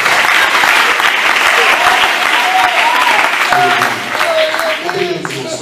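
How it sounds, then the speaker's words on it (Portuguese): Congregation applause for a preacher during an evening service at a Deus é Amor church in Belo Horizonte, loud and continuous clapping with voices rising through it, thinning slightly toward the end. "Receba o servo de Deus com palmas de glória para você."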